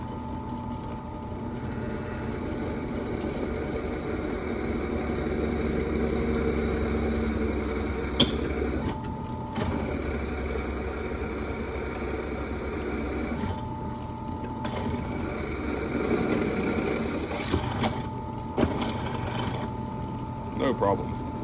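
A Grizzly 8-inch benchtop drill press runs steadily as it bores through steel, a continuous motor hum with a few brief dips and sharp clicks as the bit breaks through and the feed is eased back.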